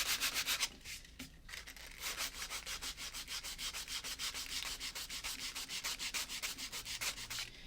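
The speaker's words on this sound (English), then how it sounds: "we're just going to keep sanding until we get this bottom edge here" Rhythmic scratchy back-and-forth rubbing of sandpaper on the bottom edge of a wooden pizza board, steady strokes repeating close by with a brief pause near the start.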